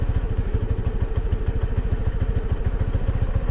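A 2022 Honda NAVI engine idles on choke in freezing weather, close by, with a fast, steady low thumping pulse that wavers slightly in rhythm.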